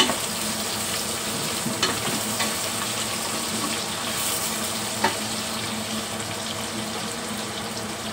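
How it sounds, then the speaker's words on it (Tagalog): Onions, garlic and ginger browning in a pan, with a dense continuous frying hiss and an occasional faint utensil tap; close and steady, with no talking. "Pag-brownin lang natin yung ating mga sibuyas, bawang, and luya."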